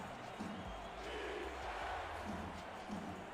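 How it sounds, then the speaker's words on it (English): Stadium crowd at an SFL football game between Charleston and Carolina, fans on their feet chanting defense, a broad steady roar with rhythmic swells of massed voices throughout. "Crowd on their feet chanting defense."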